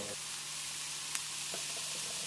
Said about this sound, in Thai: ผัดคลุกเคล้าให้กระหล่ำปลีโดนน้ำมัน สักครู่